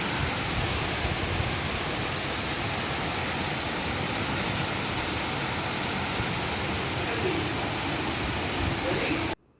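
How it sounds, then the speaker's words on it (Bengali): Morning rain falls steadily outside a home, a dense even wash of hiss and patter that holds constant until it cuts off abruptly at the very end. "বৃষ্টির আওয়াজ কিছুটা তোমাদেরকে আমি দিই"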